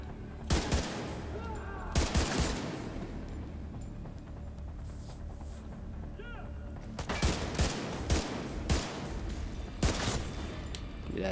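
Bursts of gunfire from the video game The Division 2 crack out in rapid clusters, with sharp loud volleys separated by quieter stretches of ambient game noise.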